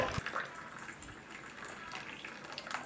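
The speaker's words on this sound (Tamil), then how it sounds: "இப்போ 200 ml தண்ணி வந்து ஊற்றியாச்சு." Boiling water being poured into a glass, a soft continuous splashing and filling sound, fairly faint and steady with a few brief clinks.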